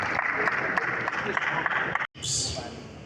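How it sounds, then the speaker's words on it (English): Audience applause for a legal luminary at a Lagos book unveiling, a broad wash of clapping that cuts out abruptly for a moment, then resumes briefly. "Please, let's give him another round of applause."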